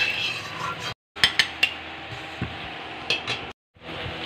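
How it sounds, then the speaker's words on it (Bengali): Cumin seeds roast in a dry wok, with soft sizzling and a few sharp clinks and scrapes from stirring, broken by two brief silent cuts. "শুকনো কড়াইতে আমি জিরে দিয়ে ভেজে নেব।"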